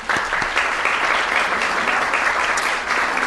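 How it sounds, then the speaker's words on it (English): Applause from attendees at a city council meeting, a steady, dense patter of clapping that carries on evenly for a few seconds with no talk over it. "Let's give them a big round of applause"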